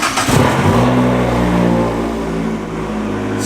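A car engine fitted with a downpipe and a K&N intake cranks and fires, then settles into a loud, deep, rumbling idle close by with a steady hum.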